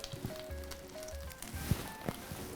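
Croque madame sandwiches sizzle gently in a pan over medium-low heat, a soft, quiet crackle with scattered pops and light clinks of kitchen utensils.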